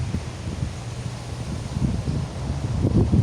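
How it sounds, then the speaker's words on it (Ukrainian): Steady low rumbling wind buffeting a rose garden outdoors, continuous and fairly loud, with gusts swelling toward the end; no talking. "Все валяє цей вітер."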